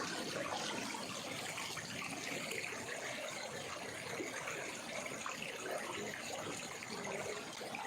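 Floodwater from an overflowing large canal flowing into homes, a continuous broad rushing wash with no break, steady and fairly loud with no voices.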